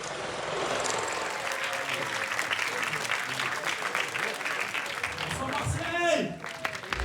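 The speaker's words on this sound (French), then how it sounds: "Merci de les applaudir bien fort, s'il vous plaît." Audience at a film premiere applauding the crew of the film Bagarre, a dense sustained roar of clapping with some voices and a brief whistle-like tone near the end.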